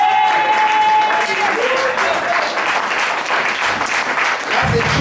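A church congregation applauds in a steady, loud wash of clapping, with voices and a sustained tone mixed in.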